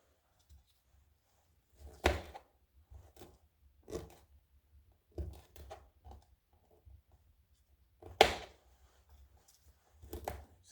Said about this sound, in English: So we're getting our broccoli chopped here.